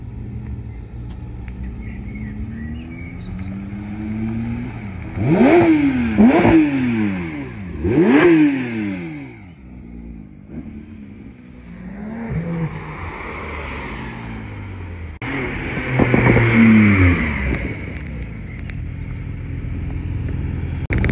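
A convoy of Porsche GT3 RS cars pulls away through Gérardmer in the Vosges. Engines rev in rising and falling sweeps as the cars pass close in two loud bursts, with a low rumble between them.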